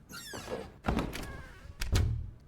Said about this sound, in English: Why is every door closing?